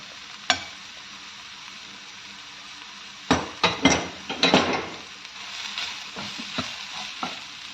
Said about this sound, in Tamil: இது கொஞ்சம் கலர் மாறுற அளவுக்கு நல்லா வதக்கிக்கலாம்